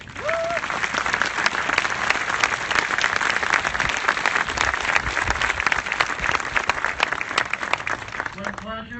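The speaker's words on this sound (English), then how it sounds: "Now we can applaud them all." Sustained applause from an outdoor Memorial Day service crowd, dense and fairly loud throughout with steady overlapping claps and a brief voice or tone near the start and end.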